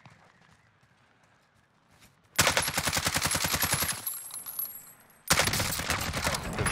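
AMAX rifle gunfire in Call of Duty Warzone, heard as two loud, rapid automatic bursts of closely spaced shots after a quieter stretch.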